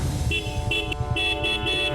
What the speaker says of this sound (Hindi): कौन है वो बुलेट पे आकर हमारे गेट के सामने हॉर्न बजा रहा है?